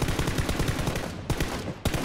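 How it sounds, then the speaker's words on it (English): Automatic gunfire in the shooter game PUBG, with a continuous rapid stream of loud shots broken by two short pauses before firing resumes. "We gotta shoot him."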